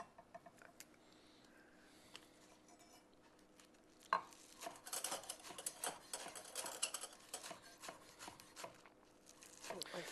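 A knife chops ingredients for shrimp ceviche on a board, quiet at first, then a busy run of rapid, irregular taps and knocks, close and fairly faint.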